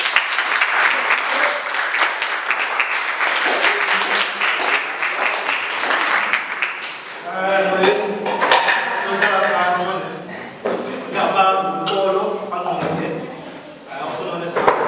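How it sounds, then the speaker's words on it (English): An audience welcomes a poet onto the stage with dense, loud applause, which thins after several seconds into scattered claps as a voice starts speaking over it. "help me welcome with a very warm hand of applause"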